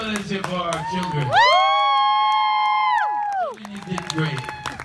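An audience cheers for children performing on stage during a visit to Hawaii: a loud, sustained whooping shout of several voices rises over crowd noise and clapping, then breaks back into general chatter and applause.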